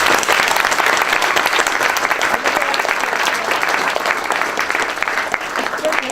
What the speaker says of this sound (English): A round of applause for all the winners, please.